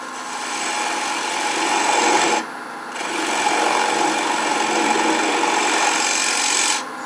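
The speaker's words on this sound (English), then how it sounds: "Now here's where I'm going to start taking down the tenon." A woodturning tool cuts the tenon of a wooden bowl held on a lathe, giving a steady close rasping scrape that breaks off briefly near the middle and then resumes, with no talking over it.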